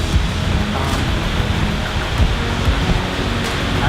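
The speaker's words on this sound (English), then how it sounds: "That's a sick waterfall." A waterfall in Iceland roars close by as a steady, dense wash of broadband rushing water, unbroken across the whole stretch with no voices.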